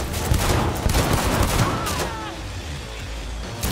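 Dense gunfire in the video game Cyberpunk fills the moment with a loud, continuous fusillade of overlapping shots and booms, close and constant throughout.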